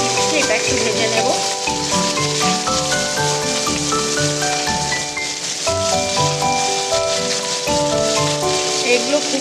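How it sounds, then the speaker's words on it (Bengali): Capsicum and tomato fry in hot oil with a continuous bright sizzle, heard under tonal background music. "এইবারে আমি দেখুন এই তেলের মধ্যে আমি এই ক্যাপসিকামটা টমেটোটা দিয়ে দিচ্ছি, এটা একটু ভেজে নেব।"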